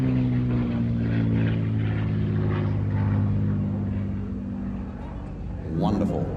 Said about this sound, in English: John Dodds in the P-51D Mustang